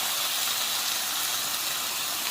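Sauce poured over button mushrooms in a hot frying pan sets off a steady, loud, broadband sizzle that hisses evenly throughout, close by and with no voices over it.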